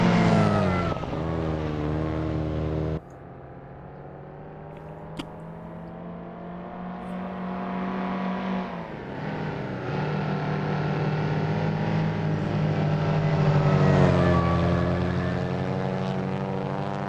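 Modded car in Assetto Corsa, engine and exhaust droning steadily and loudly throughout, with a sharp drop in level early on, then revving up and climbing in pitch toward the end.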